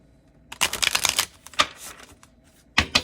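An oracle card deck is shuffled by hand in a few quick riffling bursts, crisp rapid flutters separated by short pauses, close and clear with no voices.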